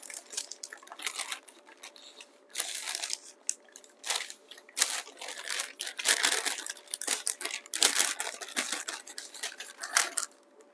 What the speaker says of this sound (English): Sorry, this was probably really loud. The crinkling.